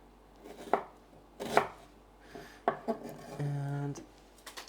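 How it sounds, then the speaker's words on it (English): A knife chops onions on a cutting board in a few separate bursts of quick strokes, close and fairly loud, with a short hum of kitchen noise near the end. "So I'm going to start by cutting up some onions."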